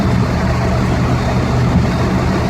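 A 1951 Ford F100 truck engine runs loud and close, a thick continuous rumble and roar with no clear gaps.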